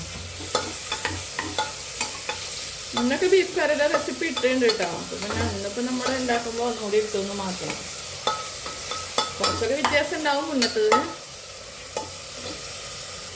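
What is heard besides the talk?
tomato and onions frying and being stirred in a pan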